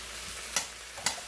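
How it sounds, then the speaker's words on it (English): Cabbage stir-frying in hot oil with brown sugar and seasoning added, a soft steady sizzle with two sharp louder crackles or stirring clatters close by, no talking. "this stir-fried cabbage is chop them, put them in hot oil, start putting that seasoning in there"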